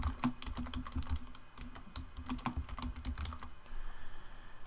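Fingers type on a computer keyboard, a quick, close burst of light key clicks that thins out near the end.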